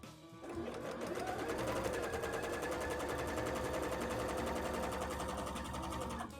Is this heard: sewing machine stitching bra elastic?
yes